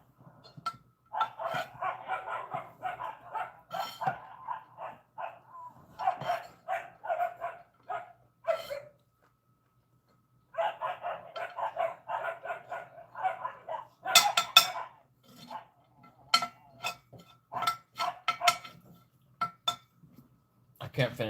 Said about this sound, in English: Can't hear it over the puppies.